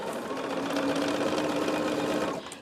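A sewing machine stitches through a bulky quilt, running in one steady, close mechanical whir for a couple of seconds before slowing and stopping.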